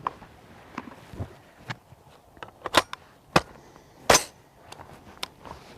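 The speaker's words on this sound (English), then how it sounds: "now this is a direct gas impingement gun" M16 direct gas impingement rifle firing, with a series of sharp cracking shots spaced irregularly among quieter clicks and handling noises, loudest shots in the middle of the stretch.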